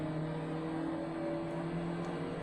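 A racing video game car engine holds a steady, sustained drone with strong harmonic bands, pulling hard out of a corner at constant loud level with no talk over it.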